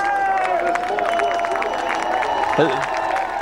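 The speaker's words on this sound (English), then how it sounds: "You can hear the fans cheering." Spectators at a 2005 Champ Car street race in Toronto cheer and clap in a steady wash of crowd noise, with nearby voices mixed in and no single standout burst.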